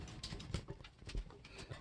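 Pigeons, including white flight birds, coo softly in low, throaty bursts, several overlapping calls close by against rustling background noise.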